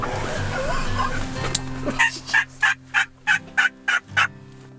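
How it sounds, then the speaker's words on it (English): A run of about eight wild turkey gobbles, close and loud, rings out in rapid succession after a stretch of faint rustling and murmured voices during a hunt. "We had a lot of turkeys come through that day."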